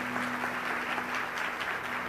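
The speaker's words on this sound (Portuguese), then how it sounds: "Você pode dar um aplauso a Ele?" Church congregation applauding during a sermon, an even, moderately loud patter of many hands over a steady low electrical hum.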